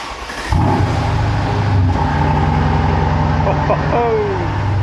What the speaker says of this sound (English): Darren offered to take us for a spin in his AMG 63